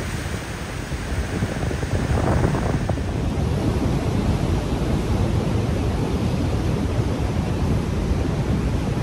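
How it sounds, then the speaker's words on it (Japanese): Rough sea surf pounding a rocky coast at the southern tip of South Africa, with heavy wind buffeting the microphone; a loud, continuous roar of breaking waves and gusts throughout, no voices. "しかも海が荒れているし本当に寒かったです"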